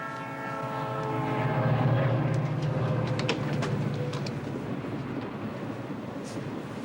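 A train rumbles along the rails in a steady, loud roar, with a low hum and scattered metallic clicks.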